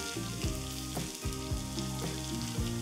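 Amboli, a rice-flour pancake topped with spread chutney powder, roasting on a hot griddle, giving a steady close sizzle and crackle with no voices.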